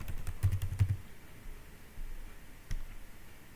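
Soft, quick keystrokes on a computer keyboard as a short word is typed, a cluster of faint clicks followed by a few scattered taps.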